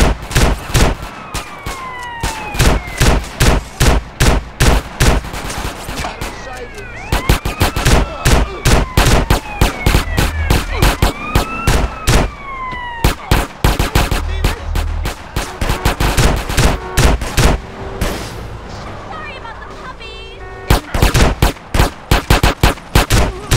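Rapid, loud bursts of video game gunfire in GTA San Andreas, dense repeated shots with brief gaps over nearly the whole span, sirens and engine sounds mixed in.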